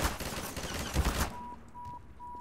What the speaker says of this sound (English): Something's shooting at me.